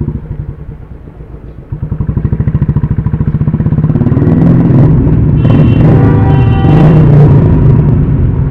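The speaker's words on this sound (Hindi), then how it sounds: "क्या ही साउंड आ रहा था अपनी बाइक का यार" A Royal Enfield Bullet 350 motorcycle engine thumps loudly up close, its rhythmic pulsing building and revving as the bike rides along a highway.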